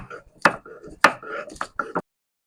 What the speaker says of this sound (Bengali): আর আগে আমি বেটে নিচ্ছি এই কয়েকটা রসুন